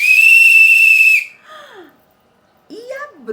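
Children blow a whistle in one loud, shrill, steady blast of about a second, close by. Short, fainter squeaky voice-like sounds follow after a pause.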